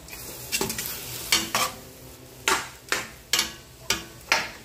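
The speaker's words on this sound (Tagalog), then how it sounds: "igisa natin dyan hanggang sa medyo maluto sila" Pork sautéing in a pot for Ilonggo-style nilagang baboy, a soft sizzle broken by about seven sharp scraping and clanking stirs of a ladle against the metal, close and evenly spaced.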